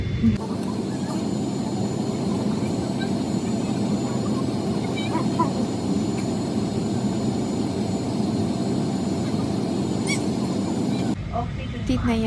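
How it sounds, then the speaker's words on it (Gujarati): Continuous low roar of a jet airliner's engines heard from inside the cabin, steady and droning throughout. "પ્લેન હવે ટેકઅપ થવાની તૈયારીમાં છે"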